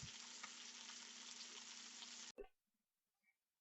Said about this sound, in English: as our burger patty is sizzling away